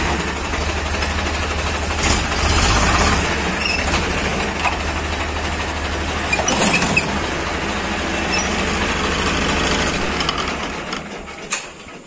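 A tractor's engine idles with a steady, low, even rumbling drone, joined by occasional clanks and mechanical knocks; no voices.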